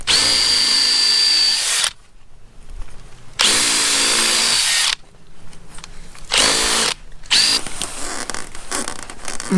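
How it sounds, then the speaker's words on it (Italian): A power drill whines in loud bursts while widening a hole for an irrigation system, stopping and restarting several times with short pauses between runs, close by and with no talking. "Pianino, se fai col trapano"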